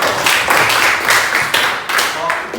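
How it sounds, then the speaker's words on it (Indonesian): An audience in a classroom applauds a group's presentation, a loud, close, continuous patter of many hands clapping in slight waves. "Mari kita tepuk tangan dulu untuk"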